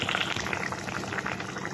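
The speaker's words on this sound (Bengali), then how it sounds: "এবার গ্যাসের স্টিমটা একটু বাড়িয়ে দিলাম, টকবক করে যাতে ফোটে" A pot of thin fish curry with potatoes and vegetables comes to a rolling boil over raised gas heat, giving a brief, close, steady bubbling with no talk.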